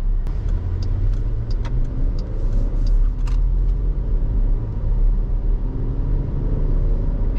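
A Jeep engine hums and rumbles steadily as the vehicle drives along a neighborhood road under light throttle. The sound is loud and continuous, with faint clicks and rattles over the drone.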